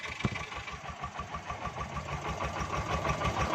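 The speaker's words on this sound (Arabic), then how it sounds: "المكنه دايره اهي، المروحه دايره اهي." A tuk-tuk engine idles steadily with a fast, even putter and its fan's constant whirring hum running alongside, close by and moderately loud.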